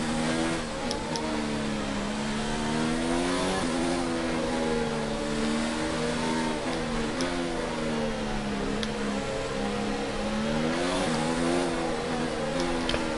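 Engines of racing cars close behind in the video game Monaco, a steady droning hum with rising and falling revs that swell and dip continuously, loud and unbroken throughout.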